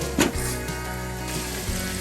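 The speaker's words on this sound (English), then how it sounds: "It's frying. I've added tomato sauce." Tomato and chilies frying in a pan for chicken curry give a steady, even sizzle close by, with a brief clatter near the start and a few soft stirring knocks.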